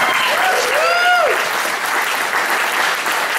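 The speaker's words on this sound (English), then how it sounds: "Give yourselves a round of applause." Loud applause fills a church campaign kickoff event, a steady crowd of many hands clapping, with a brief whoop or vocal cry near the start rising above it.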